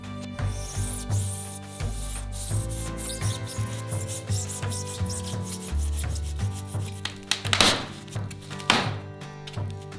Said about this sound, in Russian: После чего с помощью пилы отрезаем лишние части.